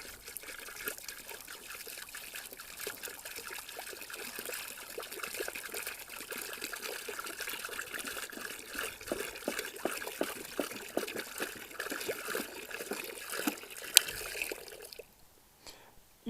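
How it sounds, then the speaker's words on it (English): Hot water poured from a jug into a frozen backyard chicken pond makes a steady, close splashing trickle that runs unbroken for about fifteen seconds, then stops abruptly. "and just pour it into their pond."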